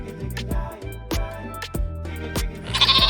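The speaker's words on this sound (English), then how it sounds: "Goat, give milk too." A goat bleats several times in a loud, close, wavering call with short gaps between cries, set against a steady low musical backing.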